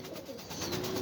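Pigeons cooing at close range at a pigeon seller's place, soft repeated coos over a low background hum, with no talk.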